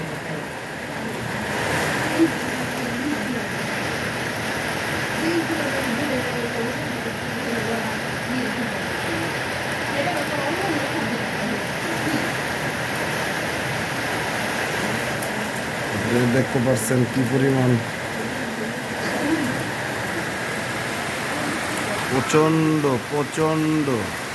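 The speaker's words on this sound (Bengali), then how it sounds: "শিলা বৃষ্টি হচ্ছে শিলও পড়তেছে বাতাসও আছে" A Kalbaishakhi storm heard from inside a house: hail and heavy rain roar steadily with gusting wind, a dense unbroken wash of noise, while a voice talks over it.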